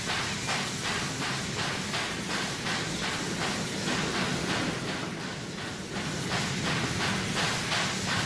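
An old steam locomotive in Transport Fever 2 puffs rhythmically under a constant loud hiss, the regular chuffs repeating steadily and close with no one speaking.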